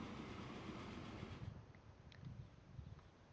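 Faint, steady rumble and clatter of a freight train carrying planks in the video game Transport Fever 2, continuous rolling noise with no voices.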